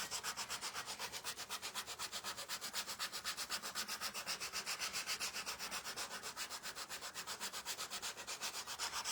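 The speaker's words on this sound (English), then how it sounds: "when I'm sanding, I'm going this way" Rapid, even back-and-forth rasping of sandpaper on wood, a soft scratchy stroke repeating steadily throughout at close range.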